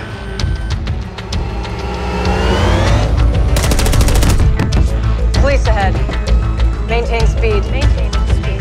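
Gunfire sound effects in a Westworld film scene, repeated sharp shots and bursts mixed with engine roar and booms over a swelling musical score, loud and close, with spoken lines in between.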